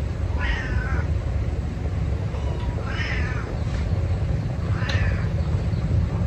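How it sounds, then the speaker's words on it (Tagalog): Several cats meow at steady intervals, three clear rising-and-falling calls spaced about two seconds apart, over a constant low background hum during a meal. "Magugulo yung mga pusa namin."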